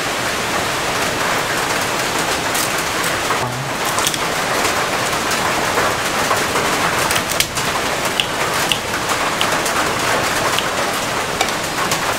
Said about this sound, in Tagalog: Sarap ng bagsak ng ulan.